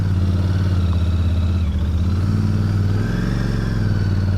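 A 2023 Royal Enfield Super Meteor 650 motorcycle being ridden, its engine giving a steady, close, loud mid-pitched drone with a slight rise in revs partway through, heard alone without talk.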